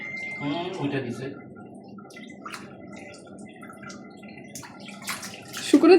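Water runs from a tap, filling with a steady splashing rush and occasional drips, while a person talks over it.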